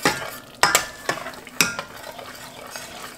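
Chopped tomato tipped into a hot pan of chickpea masala base, with a couple of sharp clattering hits of a spoon against the pan, then steady sizzling frying and stirring close by.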